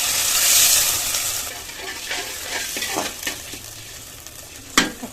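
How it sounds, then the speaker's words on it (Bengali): Ginger garlic paste frying and being stirred in a hot pan for home cooking, a steady close sizzle with scraping stir strokes and a sharp clink near the end. "জাস্ট একটু ভাজা ভাজা হলে তারপরে আমি আদা রসুন বাটা দিয়ে দিব।"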